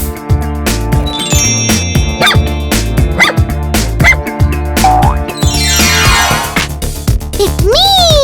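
A cartoonish voice imitates a dog barking over bouncy children's music with a steady beat, boings and sliding whistle effects, the woofs repeating in a lively rhythm and loud up front.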